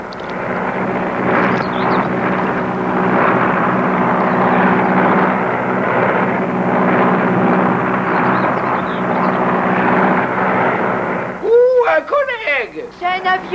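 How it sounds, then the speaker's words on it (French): A seaplane flies overhead with a loud, sustained rumbling drone that swells and holds. Voices take over as it fades. "Oh, un hydravion plutôt."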